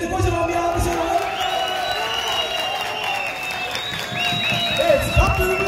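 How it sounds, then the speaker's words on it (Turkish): A crowd applauds and cheers at an award ceremony after a final match, with whoops and shouts over steady clapping and a host's voice heard beneath the noise. "Öncelikle kocaman bir alkış alalım."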